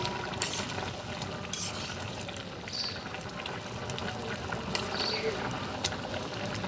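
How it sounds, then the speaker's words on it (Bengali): Chicken curry broth boils steadily in a pot, a continuous bubbling and gurgling with small pops scattered throughout, close and moderately loud. "ঝোল ফুটতেছে"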